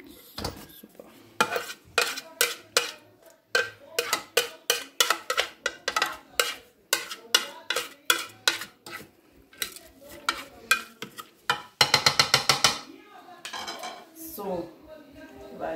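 Spatula scraping dough ingredients down the sides of a Thermomix mixing bowl, a long run of quick, rhythmic scrapes and clinks with a dense burst near the end and a faint voice underneath.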